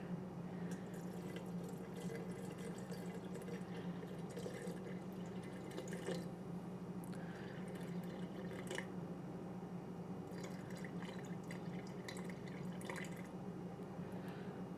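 Lukewarm spring water is poured slowly into a bowl for sourdough bread, a faint steady trickle with occasional soft drips and splashes over a quiet room hum, continuing for about fifteen seconds without talk.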